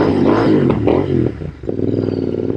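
A Royal Enfield INT/GT hybrid motorcycle engine rumbles loudly through its exhaust pipes, revving up and down with a deep throaty roar that dips briefly before building again.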